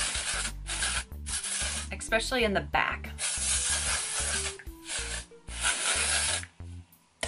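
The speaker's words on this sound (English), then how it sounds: "So I'm just gonna spray it all over" Hissing bursts of a texture hair spray, several short sprays in a row with brief pauses, close by, sprayed all over the hair, with a person speaking briefly over them.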